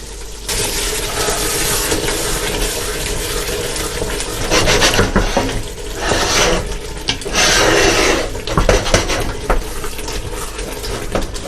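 Pork vindaloo being stirred in a pot, a steady close scraping and rasping with wet, bubbly texture running throughout, with louder bursts of stirring toward the middle and no talking.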